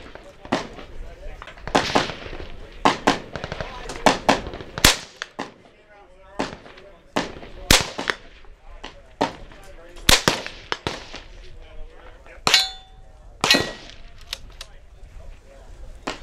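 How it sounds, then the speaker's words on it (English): Savage A17 semi-automatic rifle in 17 HMR fires a long run of sharp, loud shots, some in quick pairs and others spaced a second or two apart, each ending in a short ringing tail with quiet stretches between. "Gun shoots very accurately. I like the semi-automatic action."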